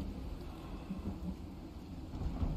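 Thunderstorm in the survival video game Icarus, with a continuous low rolling rumble of thunder and steady rain throughout, moderately loud with no voices.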